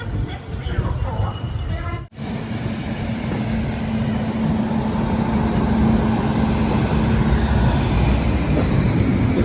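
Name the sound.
Malabar Express train departing, WAP7 locomotive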